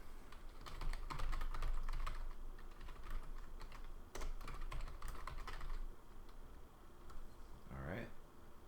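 Rapid continuous typing on a computer keyboard while writing into a WordPress page, dense clicking keystrokes at close range with short pauses, a voice speaking briefly near the end.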